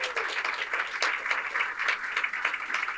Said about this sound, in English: let's give Founders Academy a big round of applause for hosting us tonight